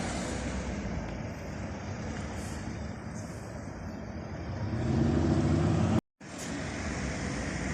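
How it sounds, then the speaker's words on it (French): An old Porsche, ancestor of the 911, passes on a street in Knokke, a broad engine rush swelling toward the end before a sudden brief dropout. "Petite Porsche, l'ancêtre de la 911, une de mes préférées."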